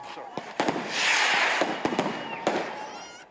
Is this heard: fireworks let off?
yes